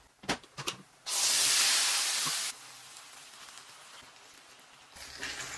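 Ground tomato poured into soup frying in a pan, giving a loud, steady hiss of sizzling for about a second and a half, then easing to a quieter simmering crackle, with a few brief clatters before and after.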